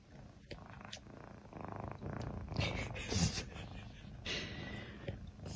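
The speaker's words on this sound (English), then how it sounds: "Still just purring away." A cat purring close up: a soft, low, continuous rumble with uneven breathy pulses and a few snorting breaths, faint overall.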